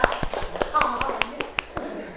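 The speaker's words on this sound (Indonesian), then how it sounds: "Tepuk tangan." Scattered claps ring out from a small audience after a poem about Indonesia is recited, a dozen sharp, evenly spaced hand claps close by, not yet a full ovation.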